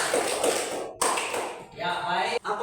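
A classroom of students claps together in a short burst of brisk, overlapping handclaps that breaks off twice before resuming.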